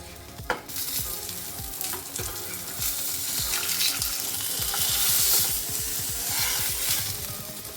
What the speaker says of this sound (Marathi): तेल बरें तापतकच तातूंत रवो लायिल्ली पापलेट घालपाची।